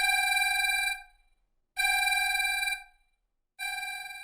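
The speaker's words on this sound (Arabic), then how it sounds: "شوية سمعت واحد التليفون كيصوني" A telephone rings in bursts, a loud electronic bell tone about a second long, repeated three times with short silent gaps, clear and alone.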